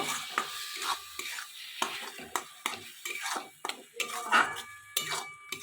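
Chopped coriander is stirred into a pan of mashed eggplant and tomato, giving repeated close scraping and clinking strokes of a utensil against the pan in an irregular rhythm, with a soft sizzle beneath.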